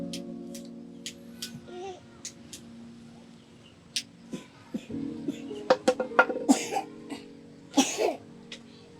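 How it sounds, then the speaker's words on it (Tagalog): Several short, sharp coughs from children break out in bursts over background murmur, growing more frequent and louder toward the end. "Umubo po yata lahat ng mga bata"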